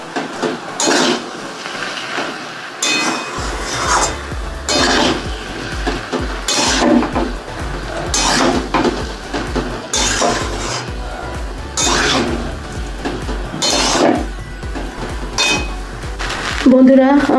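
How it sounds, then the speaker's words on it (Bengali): Fried rice is stirred together with vegetables in a pan on a gas stove, and a metal spatula scrapes and clinks against the pan in steady rhythmic strokes. A faint sizzle runs underneath, and the cooking is close and fairly loud. "এবার ভাতগুলোর সঙ্গে সবজিটাকে নাড়াচাড়া করে নেব।"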